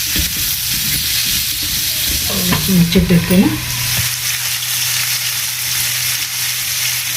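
Green Totapuri mango pickle pieces with turmeric fry in hot oil, giving a loud, continuous close-up sizzle with occasional stirring, while a voice speaks briefly partway through.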